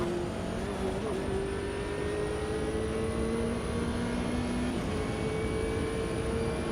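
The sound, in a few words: race car engine with sequential shifter, Automobilista 2 video game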